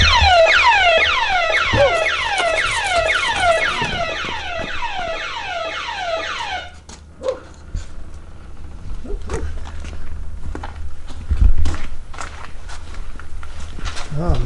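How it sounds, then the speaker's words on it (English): A building security alarm in an embroidery shop wails in loud rising, repeating electronic chirps for several seconds, then cuts off, followed by scattered clunks, footsteps and a voice. "That alarm went off, huh?"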